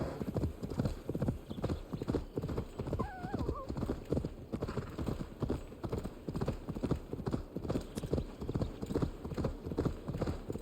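Horse hooves in Assassin's Creed Valhalla clip-clopping in a steady galloping rhythm, close and distinct, with a brief whinny.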